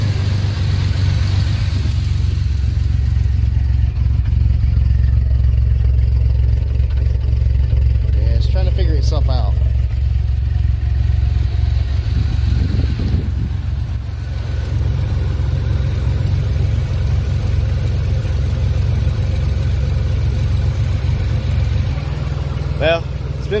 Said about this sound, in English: When you rev it up, the idle comes back down slowly.